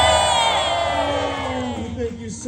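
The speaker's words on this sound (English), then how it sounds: "If you cheer louder, maybe they'll give me a bonus." A loud, close crowd cheers and whoops at a Disneyland California Adventure holiday storytime show with Deadpool and Wolverine, one sustained roar fading slowly over a couple of seconds.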